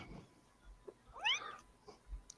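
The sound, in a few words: cat meowing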